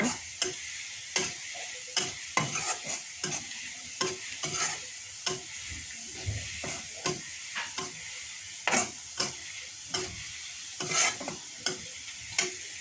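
Onions fry in a pan until reddish, under a steady sizzle broken by repeated rhythmic scrapes and taps of a stirring utensil, close and without talk.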